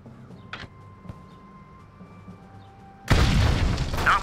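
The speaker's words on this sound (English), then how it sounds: "Grenade out!" Grenade explosion in the Xbox game Full Spectrum Warrior: quiet background with a few faint clicks and tones, then a sudden loud booming blast that rumbles on for over a second.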